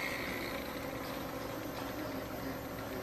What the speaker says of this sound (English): We've got enough noise here already with boats chugging away in the background, motorbikes